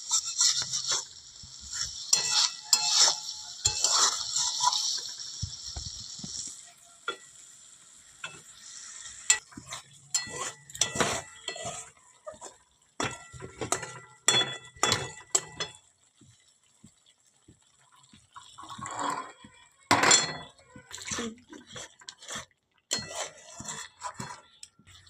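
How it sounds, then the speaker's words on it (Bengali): Spice paste frying in a pan while being stirred for a cauliflower and paneer dish: a soft sizzle under repeated scraping and clicking strokes of the spoon, close and irregular, with no talking. "এবারে মশলাটা একটু ভালো করে ভেজে নেবে বন্ধুরা।"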